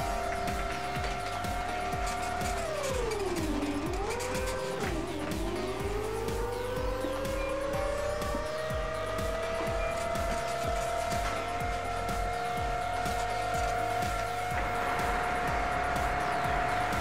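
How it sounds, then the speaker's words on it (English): Cars pulling up in the warehouse simulation game Warehouse and Logistics Simulator, a steady engine drone with pitch dipping and rising as vehicles slow and move off, continuous and fairly loud throughout. "Oh, those cars are here."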